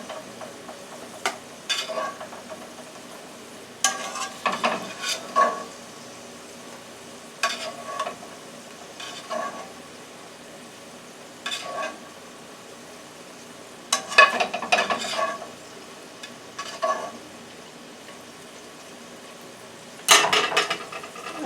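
Meatballs frying in a covered pan, a low continuous sizzle with scattered louder crackles and spits that rise and fade every few seconds, heard alone without any voices.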